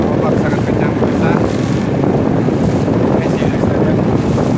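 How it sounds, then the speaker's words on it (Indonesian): Strong waves slap and churn against a boat on Lake Tempe, a loud, constant rushing roar heavy with wind buffeting the microphone, heard from on board with no clear break. "ombak sangat kencang"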